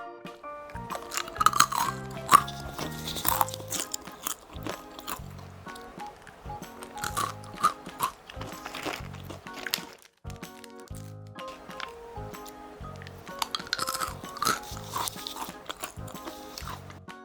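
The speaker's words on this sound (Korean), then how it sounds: "한 입 먹었을 때 바삭바삭함이 완전 잘 느껴지는 견과류예요" Close, repeated crunching of candied mixed nuts being chewed, crisp bursts in uneven rhythm with short pauses between bites.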